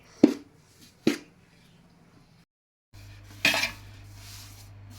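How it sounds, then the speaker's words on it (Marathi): A spoon works gram flour roasting in ghee in a pan: a few sharp, separate clinks against the metal, a pause, then a louder scraping stir over a low hum. "आता हे व्यवस्थित हलवायचं पूर्णपणे"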